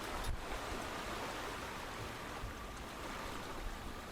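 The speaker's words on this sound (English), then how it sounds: "All you can hear are the waves crashing above you, strangely, against the side of the boat." Waves crashing against the wooden hull of a ship, heard from below deck in the bilge, as a steady muffled rushing wash of water without any clear individual breaks, soft and continuous.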